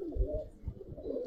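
Breeder pigeons kept in a home loft coo softly, a short burst of low, pulsing murmurs heard close and quiet with no voices.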